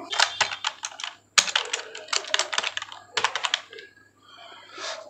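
A website name is typed on a computer keyboard in quick bursts of close, crisp key clicks with short pauses between, then trails off into quiet near the end.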